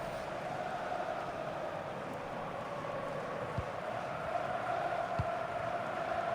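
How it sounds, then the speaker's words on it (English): A stadium crowd in the FC25 football video game, a steady distant roar of many voices sustained throughout, swelling slightly toward the end, with a couple of soft thumps. "This crowd is crazy though."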